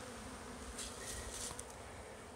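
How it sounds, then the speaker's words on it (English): Honey bees swarm around a hive frame full of honey, a continuous faint buzzing hum that is steady throughout, with a few louder close passes. "There are bees everywhere. They are just going."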